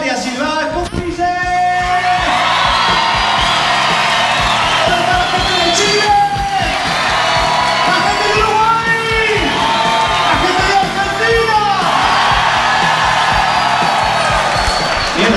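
A large crowd in Brazil roars continuously, with shouting, whoops and shrill whistles rising above the dense, loud cheering throughout.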